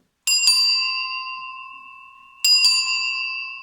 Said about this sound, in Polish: Na przykład dzwonek rowerowy.